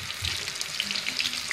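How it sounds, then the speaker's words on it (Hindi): Nargisi kofte of mutton mince fry in hot oil, a steady, close hiss of bubbling with light crackling pops throughout, no voices. "गोल्डन ब्राउन होने तक मैं इसको फ्राई करूंगी।"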